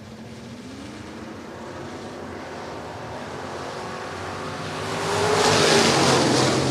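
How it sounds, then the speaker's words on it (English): Vintage stock cars race at Shelby County Speedway, a distant steady engine drone that swells louder toward the end as the pack approaches, no voices over it. "Ron Tilley taking that early lead."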